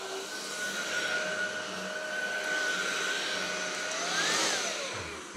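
A Curvymoontech vacuum cleaner runs on its slow setting, giving a steady, close whine with a broad rushing hiss that holds level for several seconds and swells briefly near the end, with no one talking.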